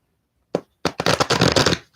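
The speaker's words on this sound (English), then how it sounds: "I want to shuffle these cards." A deck of astrology cards gets shuffled up close: one quick flick, then a dense rapid riffle of cards lasting about a second in otherwise quiet surroundings.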